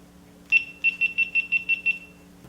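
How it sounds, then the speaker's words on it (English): A GoPro Hero 8 Black camera powers off with a quick run of about eight identical high-pitched electronic beeps, one slightly longer tone followed by seven evenly spaced pips, close and clear over a quiet room hum. "That's the turn-off signal. It's a series of beeps."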